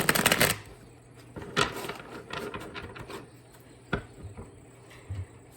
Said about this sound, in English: let me shuffle one more time just to clear that out